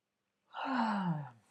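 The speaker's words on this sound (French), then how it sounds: "Là, je continue de bailler." A person yawns once during a calm end-of-day relaxation routine, a soft breathy exhale with a falling voiced tone, alone in a quiet room.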